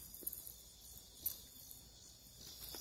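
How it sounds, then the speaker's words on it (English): Crickets chirp faintly outdoors while being caught, a thin high trill running steadily beneath a few soft scattered bumps. "Got a cricket."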